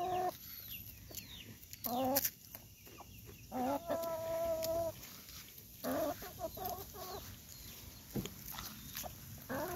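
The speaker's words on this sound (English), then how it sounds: "But the hens are obviously devouring it." Backyard hens cluck repeatedly in short bursts while pecking at cookies, close and lively, with scattered bird calls and outdoor ambience between the clucks.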